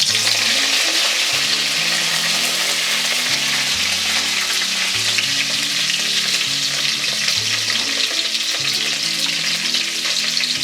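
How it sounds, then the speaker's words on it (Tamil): Mustard seeds, urad dal and curry leaves sizzle steadily in hot oil for tempering, a loud continuous crackling fry with stirring throughout and no talk. "எண்ணெய் நல்லா சூடாயிடுச்சு. இப்போ கடுகு போட்டுக்கலாம். கூடவே உளுத்தம்பருப்பு, கருவேப்பிலை,"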